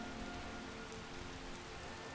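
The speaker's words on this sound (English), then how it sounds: "and now it's raining" Rain falling in the Skyrim video game, a soft, steady hiss of raindrops pattering on surfaces, quiet and continuous with no talk over it.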